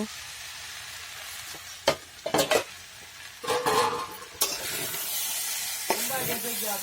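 Mixed vegetable bhaji frying in a covered pan, with a steady sizzle broken by clanks of the lid and scraping strokes of a spoon as it is stirred, then a brighter, louder hiss once uncovered.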